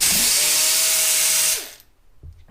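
An air ratchet whirs loudly and continuously, removing a bolt from the air compressor on a Cat engine, then spins down and stops after about a second and a half, leaving a few faint clanks.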